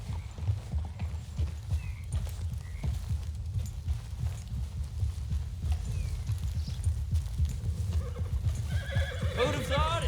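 Video game sound: steady clip-clop of horse hooves runs throughout, ending in a loud horse whinny near the close, with rumbling low background noise.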